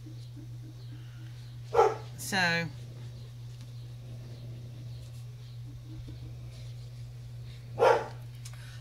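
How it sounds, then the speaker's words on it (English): A few sharp dog barks ring out from a distance, with a short burst near the start and another several seconds later over a steady low hum. "uh-oh, here are my dogs."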